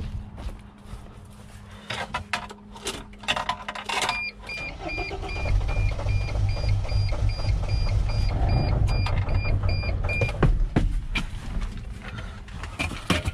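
A Mercedes Sprinter T1N engine, after a no-start fault, cranks and then catches and keeps running with a steady idle, mixed with mechanical clicks and a high electronic tone.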